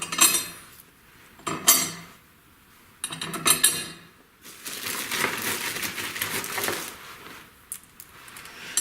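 Handful of metal bolts for a V8 surge tank project, handled in a driveway, clinking in short bursts with brief pauses, then a longer rattling shuffle of metal pieces; close and moderately loud, no talking.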